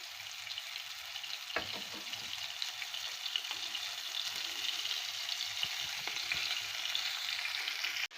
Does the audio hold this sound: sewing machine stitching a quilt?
no